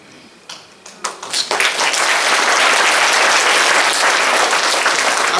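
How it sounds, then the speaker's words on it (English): Audience applause builds from a few scattered claps into steady, loud, dense clapping that fills the room and holds to the end, with no talking over it. "did they clap as much for the girls as they did?"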